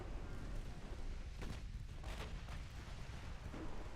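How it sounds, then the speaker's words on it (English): Heavy booming blasts from a warship's ammunition detonation after a single torpedo hit in the naval game Ultimate Admiral Dreadnoughts, a dense rumbling barrage with several sharper bursts rolling through, continuous and fairly close. "we got an ammo detonation from taking a single torpedo"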